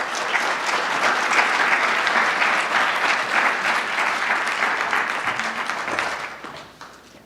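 An audience gives warm, sustained applause to welcome the Robot House fellows at a talk. The dense clapping holds strong for several seconds, then fades out toward the end.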